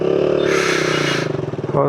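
A motorcycle engine idles close by with a steady low throb that wavers toward the end as it pulls away, starting a ride during the Tihar festival.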